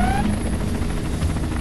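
An Aurora bomber takes off in Command and Conquer Generals with a steady, loud, rhythmic rotor-like thrum, joined briefly at the start by rising electronic tones.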